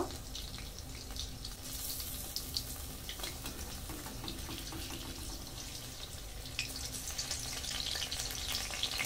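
Kalai dal boras with coconut filling fry in a pan of oil, giving a continuous quiet crackling sizzle with faint knocks as they are turned, low and steady throughout without talk.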